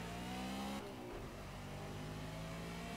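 BMW M3 GT4 race car engine in the Project Cars racing game at Hockenheim, revving hard and steadily under acceleration with a brief gear-change dip, loud and continuous with no talk.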